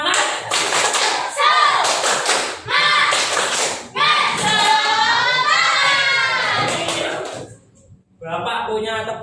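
Young schoolchildren in a first-grade class clap and chant together in a loud, rhythmic class clap routine, voices and claps close and energetic for several seconds, then a short pause before chanting resumes.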